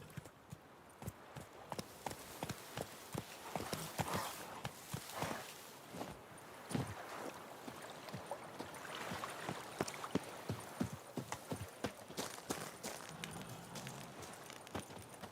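Hoofbeats of Geralt's horse Roach walking in The Witcher 3, a steady clip-clop of hooves on the ground at an even pace, moderately close but fairly quiet.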